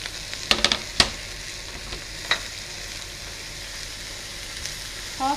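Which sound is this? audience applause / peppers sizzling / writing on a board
peppers sizzling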